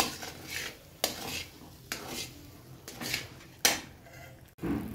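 Spoon scraping and stirring semolina milk halva with ghee in a pan, giving soft repeated strokes and metallic clinks about once a second, close by and fairly quiet, with no voices.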